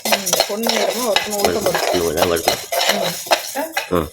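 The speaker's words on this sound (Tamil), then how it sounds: "அடுத்து உளுத்தம்பருப்பு. நல்லா வறுக்கணும்." Urad dal dry-roasting in a pan, stirred with a metal utensil that scrapes and clinks against the pan in uneven strokes, set against prominent melodic background music.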